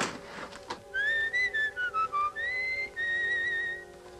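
Someone whistles a lilting song tune in clear, sustained notes and short gliding phrases, close and alone with no talking.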